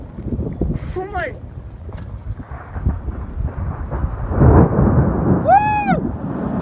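A powerful monsoon thunderstorm in Las Vegas, Nevada, in September 2017, with deep rumbling thunder building over gusty wind noise, while a voice exclaims loudly.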